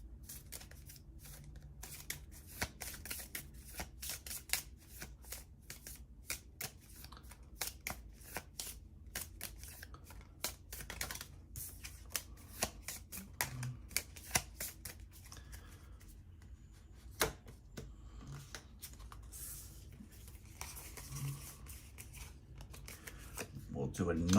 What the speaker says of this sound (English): We do have to shuffle.